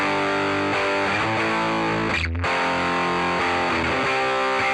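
An electric guitar plays chords through a crunchy, slightly distorted tone from a Fender Deluxe Reverb 1x12 amp simulation on a NUX MG-30, with a brief gap partway through the phrase.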